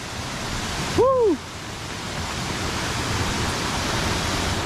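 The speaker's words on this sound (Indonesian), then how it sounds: "Air terjun ini dia tidak pernah stop teman-teman" Constant broadband rush of a waterfall on the road between Ambon and Masohi, loud and steady, with a short chirping whistle briefly cutting through early on.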